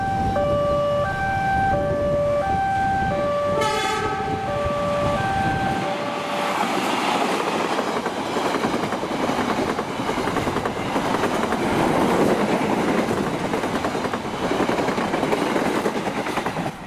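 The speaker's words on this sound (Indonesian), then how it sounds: "ini yang mau lewat adalah kereta api Airlangga 236 dari stasiun Pasenen menuju stasiun Surabaya Pasar Turi" The Airlangga passenger train sounds its horn in a stepped melodic pattern, then a steady loud roar and rattle of carriages rolls by close up.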